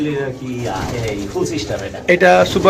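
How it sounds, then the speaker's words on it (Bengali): Racing pigeons coo softly in a loft, several low throaty calls overlapping close by, with a person talking over them throughout. "এইখানে যে আরো কবুতর আছে"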